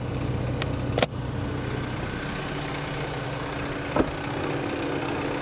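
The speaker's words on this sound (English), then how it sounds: "Okay, the engine is running." A 2024 Toyota Land Cruiser 1958 Edition idles with its hood up, a steady low engine hum running throughout, broken by two brief sharp clicks.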